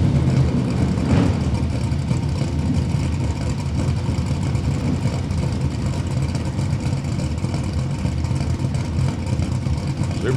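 A supercharged drag racing car engine idles in the staging lanes at a small-tire drag racing event, a steady mid-pitched rumble holding for several seconds with no talk.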